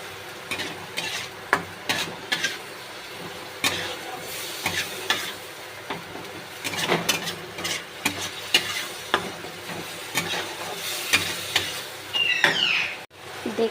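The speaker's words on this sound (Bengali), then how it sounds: "দিয়ে নাড়তে থাকবো যতক্ষণ না দইটা থেকে তেলটা বেরিয়ে যায়।" Yogurt being stirred into a frying fish curry masala for parshe macher telani, with soft intermittent scraping strokes over a low sizzle, close and fairly quiet, ending in a sharper clatter.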